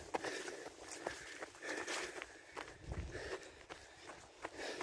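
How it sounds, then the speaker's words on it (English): Quick footsteps crunch along an overgrown outdoor trail at a steady running rhythm, faint and close to the microphone, with soft nature ambience in the background. "All you can hear is nature and my footsteps and breathing or wheezing."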